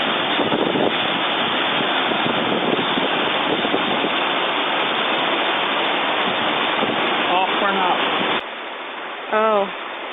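Roaring water at South Falls, a river waterfall, pours as a steady, loud broadband rush that fills the scene, then drops off suddenly near the end, when a voice briefly speaks.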